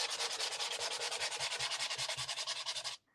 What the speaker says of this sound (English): just give it a sanding until you really, really, really feel that it's so smooth